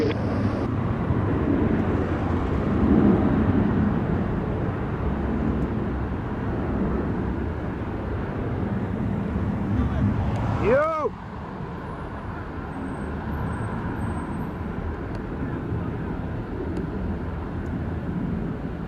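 An airplane rumbles at Sangster International Airport in Montego Bay as a steady, broad engine roar with a brief pitch sweep partway through, heard at a distance alongside radio chatter.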